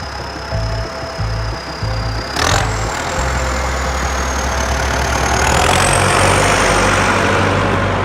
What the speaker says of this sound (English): Here we see a tractor working its way through a snow-covered forest while carrying a massive tree.